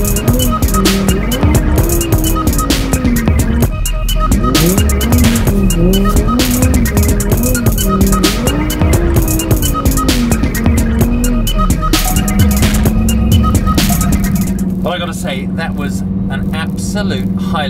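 A Lamborghini Performante sliding sideways across a frozen lake, its engine rising and falling in long revving swells with tyre noise, loud and close throughout, with someone talking over it.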